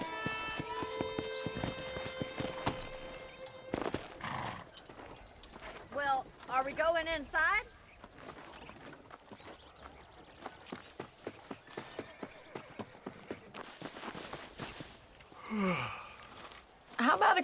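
Horse hooves clip-clop at a walk in the Red Dead Redemption video game, a steady muffled trotting rhythm that runs beneath people talking, with a brief whinny.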